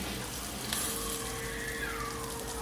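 Onion, green chilli, mustard seeds and urad and chana dal sauté in hot oil, a steady soft sizzle and crackle with an occasional stir, close by and without speech.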